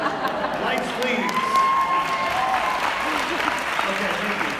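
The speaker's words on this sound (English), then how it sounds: "I appreciate the applause" Sustained applause from a large conference audience at a leadership event, steady clapping with some cheering and crowd voices mixed in throughout.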